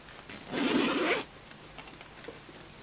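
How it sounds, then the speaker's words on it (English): A zipper runs around the edge of a cushion cover that holds a folded blanket, one steady rasping pull of under a second, close and fairly loud, followed by quiet. "You unzip it all the way around, look."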